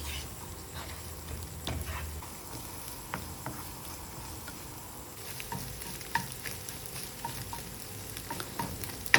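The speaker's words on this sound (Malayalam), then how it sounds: "ഇത് നമുക്ക് നന്നായിട്ടൊന്ന് ചിക്കിയെടുക്കാം." Beaten eggs are stir-fried in a pan, giving a soft steady sizzle with scattered light scrapes and taps of the utensil, no talking.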